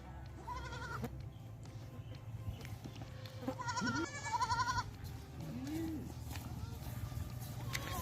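Goats on a Pakistani goat farm, among them newly kidded does and their young, give several short bleats over low farmyard rumble, a few near and others softer, with faint background activity.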